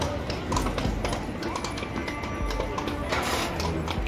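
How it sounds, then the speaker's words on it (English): Horse hooves clip-clop at a steady walking pace on pavement in Kraków's Old Town, moderately close, amid street ambience and faint background voices. "You can watch the horses go by."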